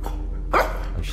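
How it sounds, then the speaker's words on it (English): A dog barks once in a horror video game, a single short mid-range bark standing out over a low steady ambient drone, with no talking. "Now I hear her barking."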